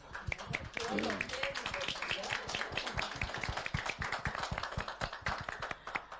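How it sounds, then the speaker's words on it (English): A studio audience on a talk show applauds a financial educator, with sharp, fairly close individual claps rattling out in a steady, uneven patter for about six seconds while a voice briefly talks near the start. "I feel like she deserves a round of applause."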